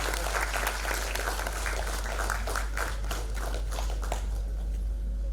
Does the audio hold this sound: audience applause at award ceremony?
yes